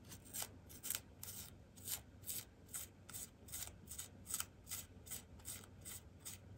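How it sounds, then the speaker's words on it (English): Sandpaper lightly rubbed on a part of a Sony TC-K55 cassette deck, a steady run of short, soft rasping strokes, close and faint, repeating roughly twice a second. "Let me try some sandpaper first, and I'll see what that does for it."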